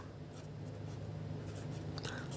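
A pen scratches faintly on paper as a maths solution is written out, a quiet continuous writing sound over a low steady hum, with no voice.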